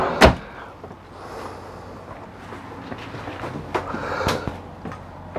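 A pocket door slides inside a 2018 Tiffin Phaeton 40QBH motorhome: one sharp knock, then a soft rolling slide, and another clack near the end, all close and fairly quiet.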